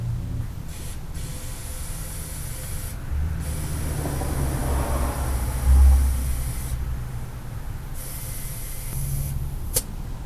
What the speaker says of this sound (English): Then I'm going to go get the air hose.